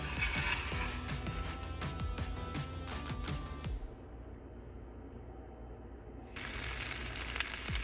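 Batter-coated butterfly shrimp in chickpea flour batter sizzle steadily in a hot pan, a dense close frying hiss that dips briefly partway through and then returns at full strength.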